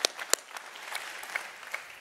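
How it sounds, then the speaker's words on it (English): Applause from a church congregation after a big announcement day, a short burst of scattered clapping that quickly thins to a few claps, moderately distant and fairly soft. "now we deserve another applause."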